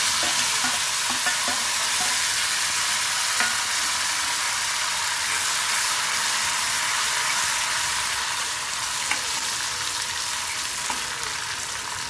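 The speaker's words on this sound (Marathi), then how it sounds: "फोडणी चांगली चुरचुरली पाहिजे, म्हणजे वरण तितकंच खमंग होतं।" A dal tempering of garlic, curry leaves and coriander fries in hot oil, giving a loud, continuous sizzle and crackle while a spoon stirs the pan, with no voices.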